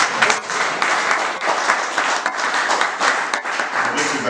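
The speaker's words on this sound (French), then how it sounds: "veuillez encore acclamer pour vous-même." An audience at a political gathering applauds loudly and continuously, dense clapping filling the space with some voices mixed in.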